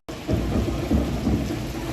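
Steady rain pours down with low rumbling thunder rolling underneath in Upleta, near Rajkot, India, a dense, continuous wash of sound close by with no voices.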